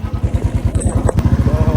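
A motorcycle engine idles with a steady, throbbing low pulse, loud and close, with a brief metallic clatter partway through.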